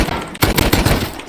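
Rapid bursts of gunfire from a video game, loud and dense, crackling in a fast cluster that runs through the whole short stretch with no pause.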